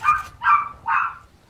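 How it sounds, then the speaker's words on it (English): Three short, yappy barks from a dog in the Warface video game, each about a third of a second long, spaced evenly and heard clearly with no talk over them. "I can hear a dog here for some reason."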